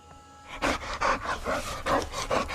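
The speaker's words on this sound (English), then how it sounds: "Yay, happy dogs." Dogs in a video game pant in quick, rhythmic bursts of close, breathy huffing, about six strong pulses in a row.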